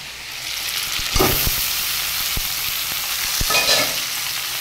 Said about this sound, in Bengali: এইভাবে আস্তে আস্তে জাল দিয়ে সবজিটা ভেজে নেব